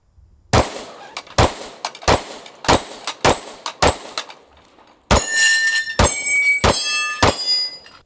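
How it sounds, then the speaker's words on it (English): A compact 10mm pistol fires a magazine of full metal jacket rounds, eight sharp, loud shots in a quick string with brief gaps, followed by ringing metallic clangs as steel targets are struck. "Let's do one more quick mag of some full metal jackets and move on to the second gun."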